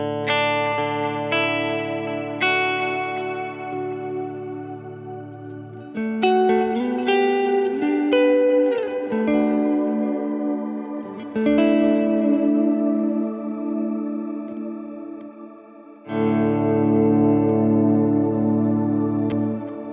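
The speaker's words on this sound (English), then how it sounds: "Why don't we demonstrate the shimmer reverb?" Electric guitar chords through a Quad Cortex shimmer reverb ring out with a shimmering, octave-rich wash that swells and sustains, shifting between chords with lush, glassy trails.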